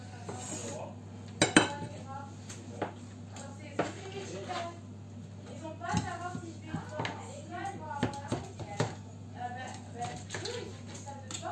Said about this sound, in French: Attends, je prends l'assiette.